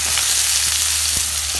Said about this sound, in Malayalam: വെളിച്ചെണ്ണ ചൂടായിട്ടുണ്ട്. അപ്പൊ നമുക്ക് ഇതിലേക്ക് കടുക് നമ്മുടെ തോരൻ എടുക്കാനുള്ളത് ഇടാം.